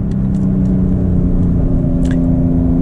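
Inside a Porsche 992 Carrera 4S with a PDK gearbox being shifted manually, a steady mid-pitched engine drone and road rumble fill the cabin, with faint clicks over the top.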